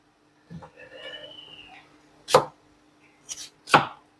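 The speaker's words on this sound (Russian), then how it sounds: "Смотрите, как красиво нарезано" A knife chops vegetables on a board in three sharp, close thuds, irregularly spaced, after a brief soft murmur.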